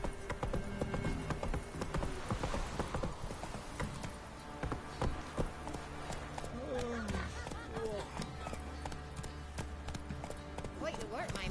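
Roach, the horse in the Witcher 3 video game, trots with rhythmic clip-clop hoofbeats and a brief whinny, heard under ongoing background music and some voice sounds.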